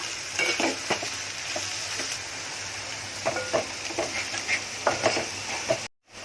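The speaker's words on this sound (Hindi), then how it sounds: "अब इसको थोड़ा टाइम 2 मिनट भूनूंगी" Salted onions sauté in a pan, a steady close sizzle under repeated spoon scrapes and stirring knocks, before a brief drop to silence near the end; nobody speaks.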